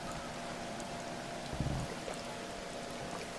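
Steady rain falls in the prehistoric survival game Dawn of Man, a continuous hiss of drops with a brief louder patter partway through and no talk.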